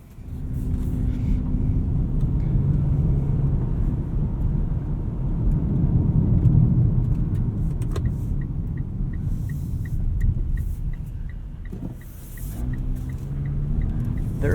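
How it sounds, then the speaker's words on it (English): A 2020 Mitsubishi Outlander Sport 2.4 GT AWD being driven, a steady low engine and road rumble heard from inside the cabin throughout, with a faint ticking and a brief dip in level near the end. "let's take this Outlander Sport for a drive here"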